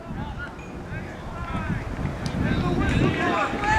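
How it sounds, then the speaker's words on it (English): A cold wind blows across a shaded soccer field during a high school boys' varsity match, producing a steady low rumbling buffet on the microphone that grows slightly stronger toward the end, with faint distant voices underneath. "there's a cold wind that's blowing"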